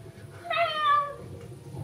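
A human voice imitates a cat with one drawn-out, wavering meow. It is heard on an improv theatre stage over a low room murmur.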